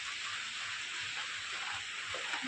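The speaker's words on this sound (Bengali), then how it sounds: "বৃষ্টি পড়ছে দেখো বৃষ্টি পড়ছে" Steady rain pours outside a home during the monsoon, a dense, even hiss of falling water heard at a distance, faint and unbroken, with no voices.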